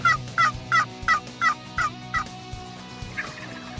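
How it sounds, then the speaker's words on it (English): A wild turkey gobbles in a rapid series of about seven sharp, rhythmic bursts from a couple hundred yards away, then falls quiet, with low background hum underneath, during a spring hunt in Indiana. "a bird just gobbled back behind us a couple hundred yards"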